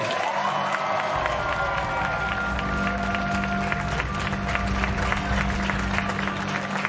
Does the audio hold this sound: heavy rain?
no